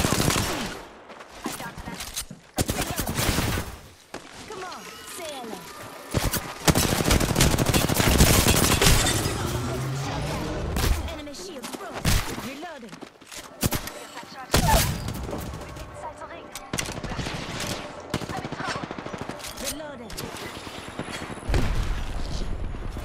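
Video game gunfire rattles in dense automatic bursts with heavy booms throughout a chaotic firefight, loud and close, while a voice speaks intermittently over the shooting.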